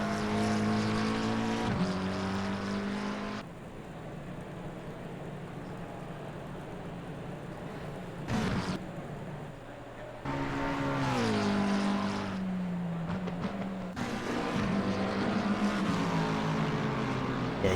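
Onboard race car at the Nurburgring in Assetto Corsa Competizione on Xbox, the engine howling loud and close, climbing through gears, dropping sharply under braking and downshifts, then pulling hard again on the exits.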